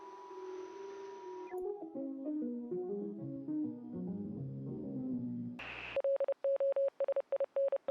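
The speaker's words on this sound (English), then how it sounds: "Oh god, it's Morse code again." Rapid electronic beeps in a Morse-like on-off pattern, loud and close, take over at the end after a stretch of guitar-like music, with a steady high tone just before them.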